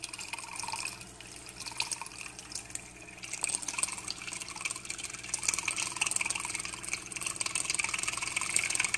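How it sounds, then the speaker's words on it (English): A homemade stir plate motor spins blue water into a vortex with some aeration, producing a continuous watery swishing and bubbling over a faint motor hum that grows slightly busier toward the end. "So now, when I plug this thing in, you can see it starts to spin."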